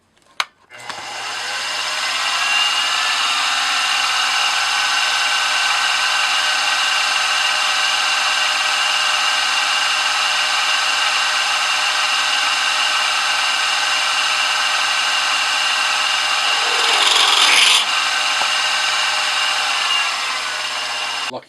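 A power drill with a letter F bit bores steadily through a spindle block, a loud continuous whine with a brief rougher burst near the end before it winds down, no voices.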